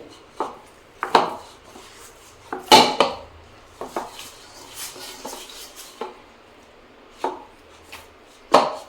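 Semolina dough mixed by hand in a bowl with a little hot water, heard as irregular close squelches, pats and knocks against the bowl, spaced apart with quiet gaps between them.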